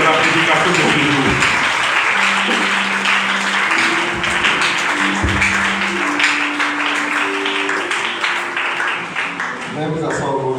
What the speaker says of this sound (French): On acclame le Seigneur pour les deux acteurs de la prédication de ce jour.